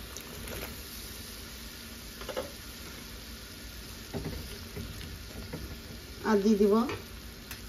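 Chopped onions sizzle and fry in a hot pan, a steady close crackle running under a voice as she talks.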